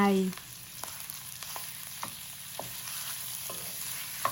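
Minced pork is stir-fried in a pan for a morning glory dish, with a steady soft sizzle punctuated by a series of crisp spatula clicks against the pan, close and fairly quiet.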